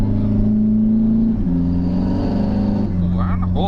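A Maserati Biturbo engine holds steady revs around 3,000 rpm, a loud, close, droning hum with a slight rise and dip near the end, while people talk over it.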